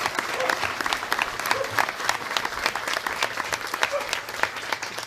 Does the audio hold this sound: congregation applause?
yes